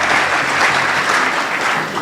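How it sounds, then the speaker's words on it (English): A brief burst of dense, loud applause rises from the hall at a Catholic bishops' plenary assembly as a visiting delegation is acknowledged, with the crowd's clapping blending into a continuous wash. "Delegates from Uganda, we clap for them."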